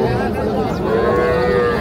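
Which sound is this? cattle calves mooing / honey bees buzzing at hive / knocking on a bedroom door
cattle calves mooing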